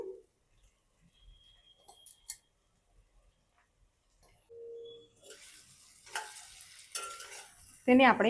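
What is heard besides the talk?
puffed rice being added and stirred in a pan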